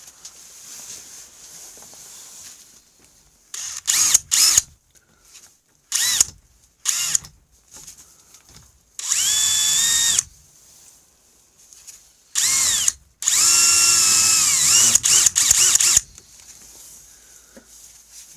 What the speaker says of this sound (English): I'm going to clean all those up with the carbide chamfer.